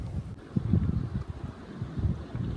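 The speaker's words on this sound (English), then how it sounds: "It's pretty windy as well" Steady wind gusting outdoors on a cold, sunny walk in Brixham near the harbour boats, a continuous low rumble of buffeting against the microphone with no talking.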